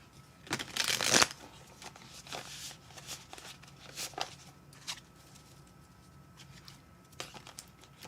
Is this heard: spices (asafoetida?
no